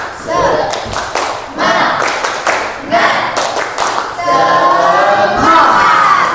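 Schoolchildren in a classroom perform a rhythmic 'tepuk semangat' clapping cheer, bursts of loud, close group claps in a patterned beat, mixed with children's chanting voices.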